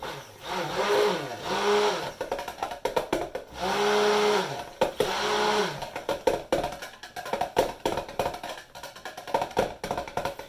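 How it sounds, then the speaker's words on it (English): A stick blender whirs in short bursts with pauses between, its motor pitch rising and falling as it churns thick French vanilla lotion close up. "I hesitate to stick blend anymore, but I think I'm gonna."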